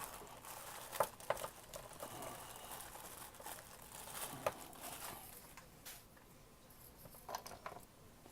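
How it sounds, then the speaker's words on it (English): Faint crinkling and rustling of packaging as items are unwrapped, with scattered sharper crackles and tearing sounds, close but quiet, and no talking. "So let's just unwrap it."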